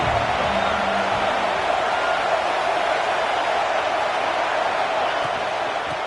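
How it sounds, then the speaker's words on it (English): Steady roar of a football stadium crowd during a USDA OSU versus UCLA game, a constant, loud wash of massed voices with no breaks. "This crowd ready to make its presence known."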